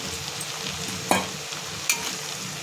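Rice going into a pan of spiced prawn masala for prawn pulao, with a steady low sizzle and two sharp stirring scrapes, close and moderately loud, no talking.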